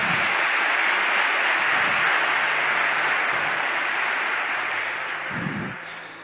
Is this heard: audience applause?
yes